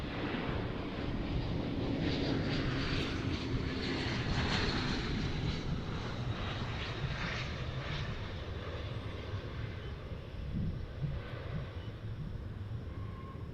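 A Volaris airliner arriving at DFW airport sends a loud, rumbling jet roar across the whole stretch, heavy in the low end with some wind buffeting, strongest early on and then holding steady.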